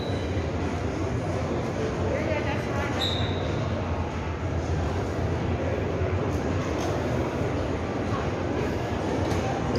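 Automated people-mover train pulling into an airport station at San Francisco International Airport, a steady loud rumble of rolling wheels and motor with a brief high tone, constant throughout.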